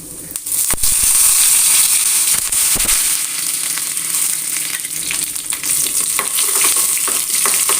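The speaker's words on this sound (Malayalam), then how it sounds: "ചൂടായ എണ്ണയിലേക്ക് നമ്മൾ കുറച്ച് കടുകിട്ട് കൊടുത്തു" Mustard seeds, a dried red chilli and curry leaves crackle and sizzle loudly in hot oil, with sharp popping bursts over a steady frying hiss, close and without speech.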